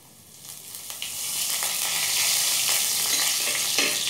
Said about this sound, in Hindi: और जीरे को भून लेंगे